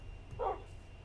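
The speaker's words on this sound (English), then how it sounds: "Yay! We got another puppy!" A tamed wolf puppy in Minecraft gives one short, close bark against a low background hum.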